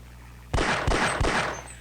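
Three pistol shots in quick succession in Half-Life: Opposing Force, punchy and close, each trailing a brief reverberant tail.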